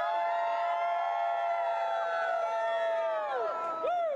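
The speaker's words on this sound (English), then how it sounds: "can we hear from the Del cheering squad?" Del cheering squad at a live broadcast event raising a sustained, loud crowd cheer of whoops and high shouts that swell and hold throughout, with rising and falling wails near the end.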